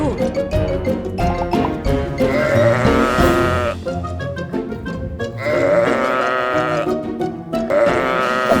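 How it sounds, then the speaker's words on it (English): A goat bleats repeatedly, loud, quavering calls in several bursts with short pauses between, close up and with no talking. "goat"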